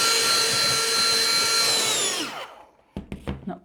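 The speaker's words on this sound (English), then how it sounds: "It's my Dyson vacuum." A Dyson vacuum cleaner runs with a loud, high whine while sucking up loose threads, then winds down and stops, followed by a few soft clicks and handling sounds.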